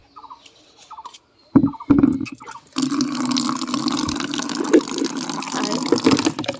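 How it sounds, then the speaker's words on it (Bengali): Water filling a container at home, with a few short splashes and clunks at first, then a steady, close gushing stream that runs on without a break. "এখন জল ভরতে দেব।"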